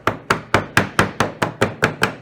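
A hammer knocks a wooden wedge into a small cupboard latch, nine sharp evenly spaced blows in quick succession, close and loud with no talking.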